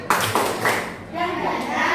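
A classroom of children joins in a rhythmic spirit clap, with several sharp bursts of group clapping in the first second followed by a busier patter of claps and children's voices.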